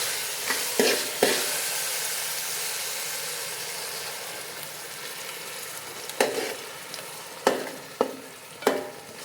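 Ground masala paste sizzles in a hot pan with tomato for a chicken curry, a steady hissing fry broken by several sharp scrapes and knocks of a spoon stirring it.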